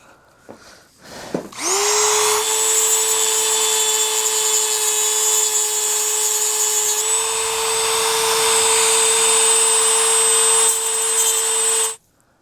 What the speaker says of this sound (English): we've used our Dremel tool to make a little notch in this rounded out fastener